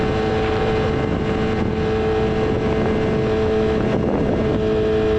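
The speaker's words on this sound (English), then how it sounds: "picking up the sound of the wind, sound of the bike, pretty much anything that's leaking through my helmet" A BMW S1000RR motorcycle ridden at speed, its steady engine drone mixed with dense wind roar heard through a helmet, loud and continuous with no speech.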